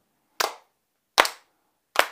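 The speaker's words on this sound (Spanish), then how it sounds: "vamos a pasar a hacerlo con palmas" Hand claps in a simple family rhythm exercise: three crisp, separate claps land at an even, unhurried pulse, each one sharp and close, with silence in between.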